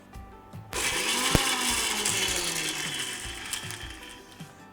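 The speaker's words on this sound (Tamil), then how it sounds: "இதை கொஞ்சம் மிக்சியில் ஒரு கொரகொரப்பாக ஒரு லைட்டாக ஒரு சுற்றிடலாம்." A kitchen mixer grinder coarsely grinds fennel and cumin seeds in a short burst. It starts abruptly after a near-silent moment, whirs steadily with rattling seeds and then winds down slightly toward the end.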